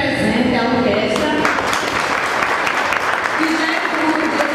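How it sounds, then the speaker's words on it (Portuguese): Steady applause from an audience for the musicians and orchestra at a municipal anniversary ceremony in Luís Gomes, Rio Grande do Norte, dense and continuous throughout. "Peço uma salva de palmas para os músicos aqui presentes, a orquestra,"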